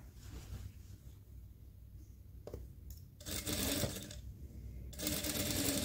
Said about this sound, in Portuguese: agora eu vou estar costurando aqui, prender esse cos na calça